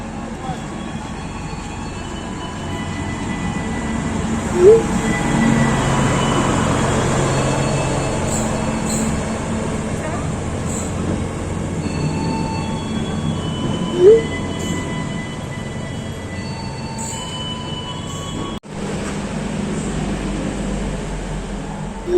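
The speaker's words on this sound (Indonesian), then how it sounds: "Nah, kereta apinya sudah datang." Minangkabau Express passenger train pulling into a station, a steady close rumble with wheel and brake squeals through the middle and a sharp cutoff near the end, while people talk quietly nearby.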